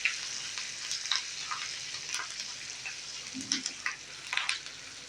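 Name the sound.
green chilies sizzling in tempering oil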